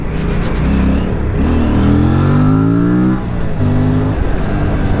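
An Aprilia RS 457 motorcycle engine revs hard while riding through the city, pitch climbing in rising sweeps, dropping, then pulling up again, loud and close.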